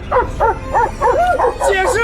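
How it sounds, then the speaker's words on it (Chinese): A dog barks repeatedly in a quick, even rhythm late at night, loud and close, while people speak over the barking. "你听见狗叫声了没？"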